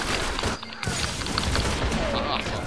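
Rapid bursts of an exotic gun in Destiny on PS3 PvP, dense continuous fire filling the whole stretch, loud and close, with a voice talking over it.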